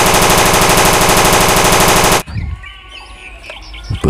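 A toy M60 machine gun fires a loud, rapid continuous burst for about two seconds, then cuts off abruptly, leaving faint chirpy background sounds.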